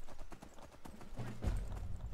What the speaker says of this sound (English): Get off the horse, get off the horse!